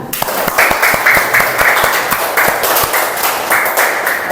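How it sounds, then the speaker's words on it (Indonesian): A classroom group claps in a loud, fairly rhythmic burst, sharp regular hand claps over a wash of scattered clapping, lasting several seconds. "Tepuk tangan"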